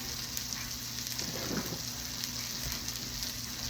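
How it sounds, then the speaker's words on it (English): Red and green bell pepper with onion sautéing in a hot pan, a continuous even sizzle like light rain, close and moderately loud with a brief swell of crackle midway. "I'm going to saute these up until they're nice and soft and yummy"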